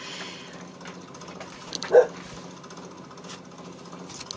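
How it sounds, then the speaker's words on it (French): A neighbour's dog gives one short, muffled bark from some distance at an open door, standing briefly above a quiet indoor hum. "là, il y a les chiens d'à côté qui aboient"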